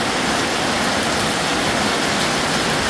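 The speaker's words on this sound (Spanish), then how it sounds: "el sonido de la lluvia." Steady, dense rain pours down in El Salvador, a constant loud hiss of falling water with no pauses and no voices.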